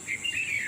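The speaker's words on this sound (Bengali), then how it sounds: "পাখিগুলোর কিচিরমিচির শুনতে পাচ্ছি।" Birds chirp at dawn in quick, bright bursts over a steady high insect-like hiss, fairly close and clear, with no voices.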